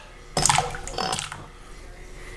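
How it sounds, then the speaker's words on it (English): Potatoes dumped into a pot of water for boiling, giving a sudden splashing plunge followed by a second smaller splash and fading sloshing. "take the pot you're going to boil the potatoes in, fill it with water, and then dump the potatoes in the water"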